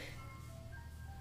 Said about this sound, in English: We got the ice cream truck going by.